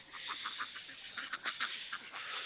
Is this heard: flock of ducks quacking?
yes